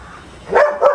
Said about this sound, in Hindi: देख रहे हो कैसे खड़े होकर भौंक रही है